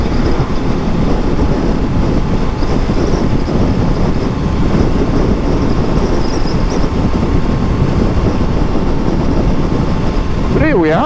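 A Royal Enfield Classic 650 motorcycle cruises at 60 mph, giving a constant loud roar of engine and rushing wind buffeting the microphone, steady throughout with no break.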